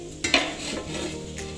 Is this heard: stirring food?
yes